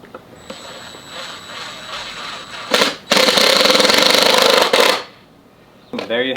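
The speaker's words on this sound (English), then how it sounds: "Take your drill with the small bit and just pre-drill a hole for your screws so you don't end up splitting your dowel" A power drill with a small bit pre-drills screw holes in a wooden dowel, sounding as a loud steady whir for about two seconds after a brief start, followed by a short tail and faint background noise.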